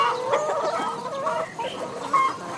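Hens cluck steadily as they forage outdoors on open range, a busy overlapping flock chatter close by with no voices.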